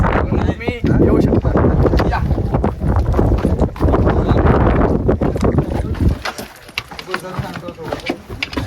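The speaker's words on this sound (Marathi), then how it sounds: "सोसाट्याचा वारा सुटलेला होता" Strong wind roars and buffets the microphone in loud, rough gusts on Torna fort's hilltop, easing toward the end, with people talking through the noise.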